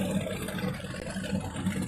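A steady, low motorboat engine drone carries across Lake Conroe, Texas, an even hum with slight pulsing and no voices over it.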